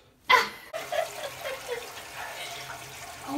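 A toilet flushes nearby after a sharp clunk of the handle, followed by a steady gurgling rush of water that stays moderately loud and continuous.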